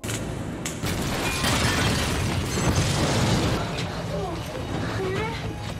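In a film scene, a gas explosion in an apartment unit is set off when sparks from a microwave ignite leaking gas. A loud, rumbling blast swells and roars for several seconds under narration.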